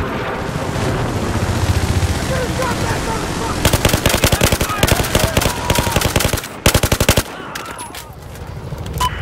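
Enemy machine gun fire in a war video game crackles in rapid, loud bursts, with sustained rattling volleys and short pauses between them, over a background of battle noise and radio-style talk.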